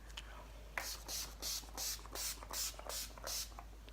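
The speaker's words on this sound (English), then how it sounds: "I'm going to be using the Urban Decay All Nighter Setting Spray. Just gonna spray that all over." Quiet repeated spray bursts from an Urban Decay All Nighter makeup setting spray pump mist bottle, about six short hissing puffs in a quick steady rhythm, close and alone.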